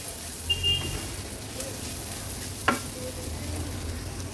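Tur beans being stirred into spices in a pan, a soft low sizzle running steadily underneath with a couple of light scraping clinks from the spoon.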